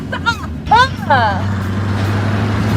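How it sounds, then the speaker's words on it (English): Car engine turning over in a garage scene of a German fan film of A Nightmare on Elm Street; voices come first, then a steady low engine drone settles in and runs on. "Is the car gonna turn on behind him?"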